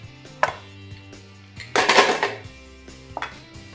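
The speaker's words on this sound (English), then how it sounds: "You add your ice," Ice cubes dropped into an Enpee Prestige blender jar, a few sharp clattering hits followed by a louder rattling burst of ice tumbling in, close and alone with no talk.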